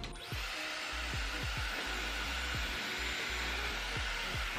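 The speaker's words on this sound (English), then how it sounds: "highest heat, highest power on the Dyson" Dyson Airwrap drying damp hair at highest heat and highest power, a loud steady airy whoosh running throughout, with repeated low thumps and bumps from handling beneath it.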